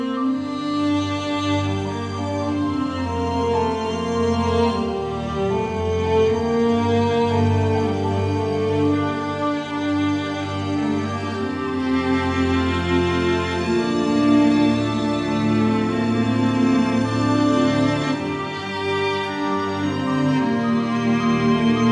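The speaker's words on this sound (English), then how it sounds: "it's a piece for solo cello and viola" A solo cello and a solo viola trade long sustained melodic lines over a soft, steady bed of quiet ensemble strings.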